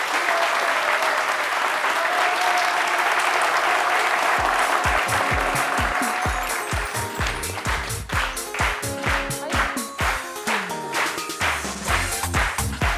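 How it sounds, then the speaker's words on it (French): A studio audience on a French television talk show bursts into sustained applause, dense and loud at first, then settling into steadier rhythmic clapping toward the end, with no talk over it. "Vos applaudissements s'il vous plaît, mesdames et messieurs"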